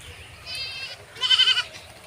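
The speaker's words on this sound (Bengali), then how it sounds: "ওই দেখো আমাদের ছাগলগুলো খেয়ে আসছে" Goats bleat twice on a rainy tea-garden farm plot, a wavering call followed by a louder, shakier one, close by with faint background noise and no talk.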